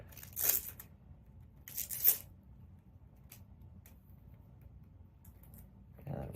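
Tape ripped off a roll and pressed down onto a sandstone car coaster blank being prepared for sublimation: three short, close ripping bursts, with quiet handling noise in between.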